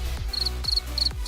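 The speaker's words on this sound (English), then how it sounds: "Crickets." Crickets chirp in short, regular bursts, three bright trills repeating at an even pace over a low background hum, close by and clear.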